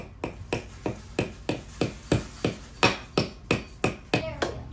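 A hammer strikes repeatedly in a steady rhythm, about fifteen sharp, ringing blows close by with nobody talking.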